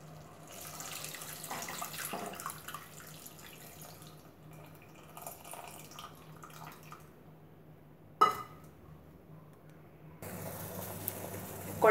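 Tamarind water poured into a simmering Tamil kuzhambu (paruppu urundai kulambu), a quiet pouring and splashing over several seconds with a few drips, a sharp clink from a vessel, then a louder burst of liquid near the end.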